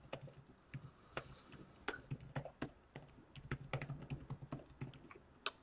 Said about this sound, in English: I'm just going to type an email address into here for my testing purposes